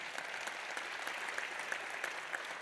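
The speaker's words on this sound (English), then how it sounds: "Can we get an applause for that?" Conference audience applause at a health technology event: a continuous, moderately quiet patter of many clapping hands, steady for a few seconds with a few slightly sharper claps standing out and no talking.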